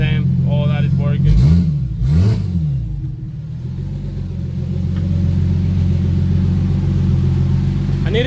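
A Toyota 1JZ engine swapped into a Mitsubishi Mighty Max truck idles with a loud, steady low rumble, including a couple of brief revs early on, and a person talks over it.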